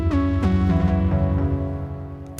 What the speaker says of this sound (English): With the other polyphonic synth, it sounds like this.